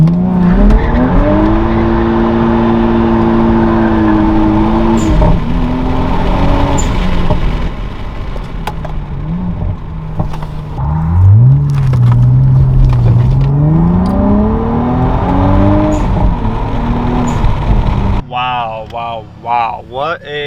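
A car revs hard and accelerates, its engine note rising and falling in loud sweeping pitches, with tire squeal and a closer engine sound near the end.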